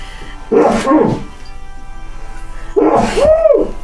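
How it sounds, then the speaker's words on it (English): A person sneezes twice, each one a sharp burst about two seconds apart, close and loud in a quiet room. "I'm going to sneeze."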